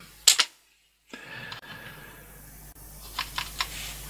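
Keys on a computer keyboard clack as a command is typed, a few sharp clicks at the start, then a pause and several scattered keystrokes near the end, close and fairly quiet.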